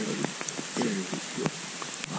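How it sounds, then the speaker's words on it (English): Pouring rain falls during a deer hunt in the Pocono Mountains, a dense steady hiss with scattered sharper drops spattering nearby throughout. "We got about 40 minutes left of sitting in this pouring rain"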